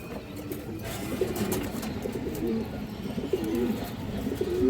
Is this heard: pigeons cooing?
yes